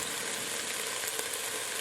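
Minced garlic from a jar sizzles in a soup pot, a steady, even frying hiss that holds at a constant level throughout with no talk over it.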